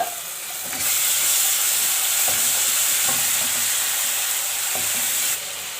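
Ground tomato paste from medium tomatoes hits a hot pan and sizzles loudly with a bright, steady hiss. Scraping stirs and occasional spoon knocks on the pan come through underneath, and the hiss eases near the end.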